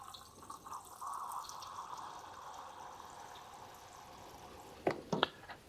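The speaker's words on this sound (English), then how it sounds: "I actually poured better than what I thought" Butcombe Christmas Ruby Ale pours into a glass in a steady, moderately loud liquid stream lasting several seconds, ending with a few sharper clinks or knocks as the glass is handled.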